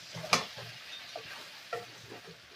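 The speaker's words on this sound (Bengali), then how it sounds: "বড়িগুলোকেও একটু ভালো করে কষিয়ে নেব এর সঙ্গে।" Fried lentil dumplings stirred in a simmering fish curry with vegetables in a pan, giving a few soft scraping stirs and faint sizzling, quiet and close with no talking.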